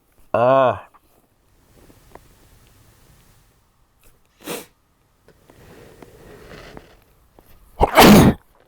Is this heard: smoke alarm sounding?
no